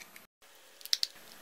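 Plastic parts of a Michelangelo Teenage Mutant Ninja Turtles toy figure that transforms into nunchucks snap together: two quick, sharp clicks close by, faint against a quiet room.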